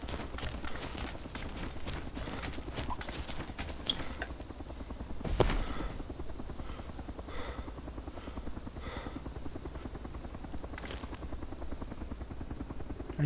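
A helicopter in Arma 2's DayZ Overpoch mod thuds with a steady, rapid rotor pulse for the whole stretch, with a brief sharp burst near the middle and fainter knocks scattered through.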